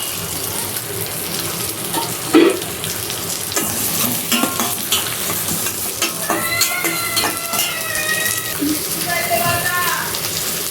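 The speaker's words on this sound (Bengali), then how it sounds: "এখন রান্না করতেছি পেঁপে দিয়ে তেলাপিয়া মাছটা ঝোল করবো।" Tilapia and papaya sizzle and fry in a pan over steady kitchen noise, with stirring clatter and a brief louder clink; a voice talks over the cooking.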